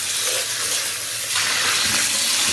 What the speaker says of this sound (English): We're going to rinse these beans.